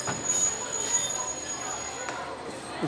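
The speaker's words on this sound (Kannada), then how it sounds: "ಹಳೆಯ ಕಾಲದ ಟ್ರೈನು ಗುರು ಇದು" An old local passenger train runs along, a steady rumbling roar with faint metallic squeals and occasional clanks, crowd noise and murmuring voices blending in.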